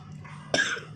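A single sharp cough bursts out halfway through, close and fairly loud, with quiet room noise around it.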